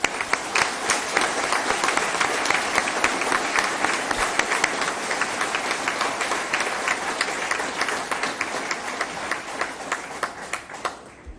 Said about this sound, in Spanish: A ellos sí les pido un aplauso muy importante.